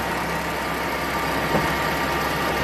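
A Nissan X-Trail engine idles close by, a low continuous rumble with an even drone and no changes in pace.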